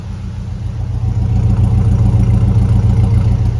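A steady, low car engine idles, heard standing beside the exhaust, its rumble even and growing a little louder after the first second, with a soft whir on top.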